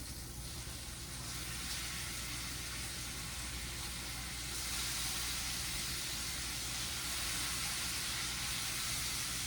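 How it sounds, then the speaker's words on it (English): Bacon sizzles in a frying pan, a steady close hiss that grows slightly louder and brighter partway through, with no talking. "I'll flip my bacon."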